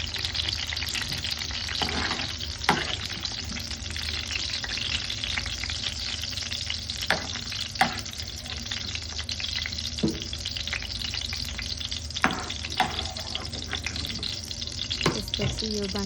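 Potatoes sizzle steadily in hot leftover oil after cauliflower was fried in it, with a constant close hiss broken every few seconds by the soft scrape and clack of stirring.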